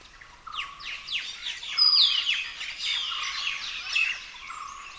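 Many birds chirp and call together in an Assam forest during the hot, dry flowering season, a busy overlapping chorus of quick tweets that swells after the first half second and stays lively, with no talking.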